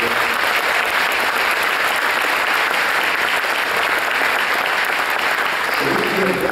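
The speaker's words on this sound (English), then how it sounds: "I'd like to give the concert band one more big round of applause for their work" A high school band concert audience gives the concert band a long, loud round of applause. The dense, even clapping fills the hall without a break, with only faint voices under it.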